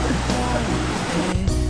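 A waterfall in Vietnam gives a steady broadband rush of falling water, close and continuous, with a low rumble underneath and no clear voices.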